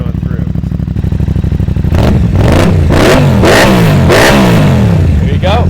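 An Aprilia 660 motorcycle fitted with an aftermarket exhaust runs at a loud, close idle, then is revved sharply several times in quick bursts, each rise and fall of engine pitch clearly audible.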